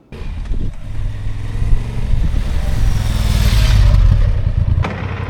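Honda Transalp 750 adventure motorcycle (2025) under way, a steady low engine drone with rising wind noise building over several seconds, close and loud, no talking.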